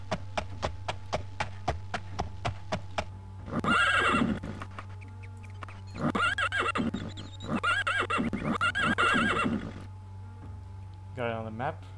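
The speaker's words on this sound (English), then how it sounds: "Every time I click an option, I would hear the horse." A horse in the video game Elder Scrolls Daggerfall neighs loudly in several repeated whinnies, preceded by a rapid run of sharp clip-clop hoofbeats, all close and prominent.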